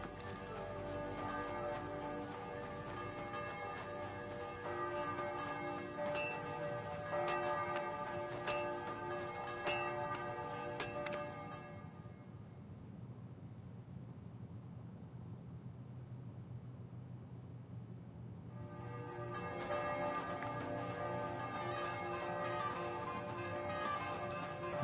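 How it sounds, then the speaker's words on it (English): Game ambience from Kingdom Come Deliverance 2 in the town of Kuttenberg, with sustained bell-like ringing tones layered through the scene, dipping into a muffled lull midway before the full ringing texture returns, no talk. "The bell should be the"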